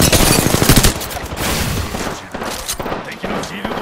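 Gunfire erupts in Apex Legends while the player is under attack: loud, dense rapid bursts crowd the opening second, then thinner sporadic shots and game effects continue to the end.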